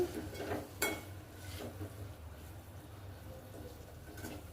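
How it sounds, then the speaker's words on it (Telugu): Coriander powder being stirred into a simmering fenugreek-leaf and tomato curry, with soft scraping of a spoon against the pot, a few brief clinks and a faint sizzle running underneath. "1 టేబుల్ స్పూన్ ధనియాల పౌడర్, వేసి బాగా మిక్స్ చేసుకోవాలి."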